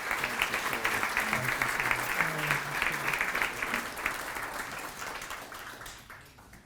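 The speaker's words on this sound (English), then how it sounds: "let's have another round of applause for Shirley Romaine." Audience applause at a women's honor roll ceremony, a full room clapping steadily with murmured voices beneath, slowly tapering off toward the end.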